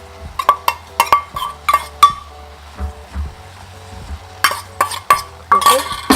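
A spoon stirs rice in a pot on the stove, giving repeated close scraping and clinking strokes against the metal, with a faint sizzle between them.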